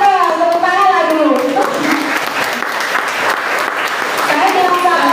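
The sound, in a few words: applause from children in a classroom audience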